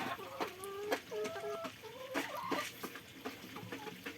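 Laying hens cluck on an egg farm in Thailand, a busy overlapping chorus of short calls and cackles at close range, with faint background noise throughout.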